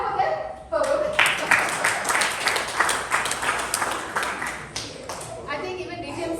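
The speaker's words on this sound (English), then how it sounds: "Clap for them. For women." A crowd at a youth leadership program session breaks into clapping after a short opening, a moderate round of applause that swells, holds for a few seconds and then thins out as talk resumes.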